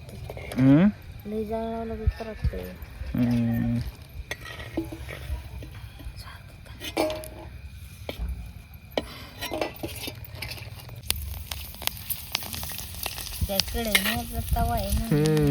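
Bombay duck fish frying on an old, cracked pan, with steady sizzling plus stirring scrapes and utensil clatter throughout, under frequent nearby talking.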